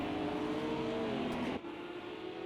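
GT3 race cars in Project CARS 2 on a Texas road course. A loud engine holds a steady high whine, then drops abruptly at the moment of braking and continues at a lower, rougher drone.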